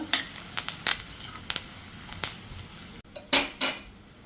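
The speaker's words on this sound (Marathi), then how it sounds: "आता वाटण पण थोडं परतून घेऊया" Ground garlicky chutney paste is stirred in a pan for a stem-vegetable dish, a metal spoon scraping and clinking against the pan in scattered sharp taps, close and fairly quiet with no voices.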